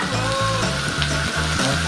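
Pork fries in hot oil on a mookata grill pan during a family New Year meal, giving a steady close sizzle. Rhythmic low thumps run underneath it with no talk.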